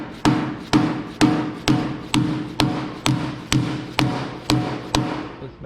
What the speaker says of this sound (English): with my little body hammer